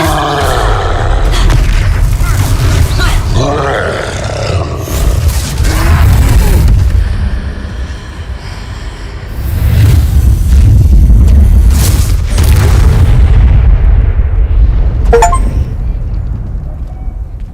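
Spell blasts land in a troll battle in the Hogwarts Legacy video game: repeated loud booms and crashing impacts over a dense, rumbling game soundtrack, with occasional chimes.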